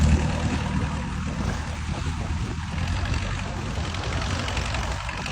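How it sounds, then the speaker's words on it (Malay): A boat engine pulls a fish-trap stake out of the water, producing a steady loud rumbling drone with water and wind noise that holds unchanged throughout. "Dicabut balik, ditarik balik saudara menggunakan bot pektam Mahadi ya."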